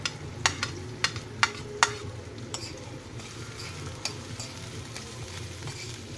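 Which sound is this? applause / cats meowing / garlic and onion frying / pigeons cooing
garlic and onion frying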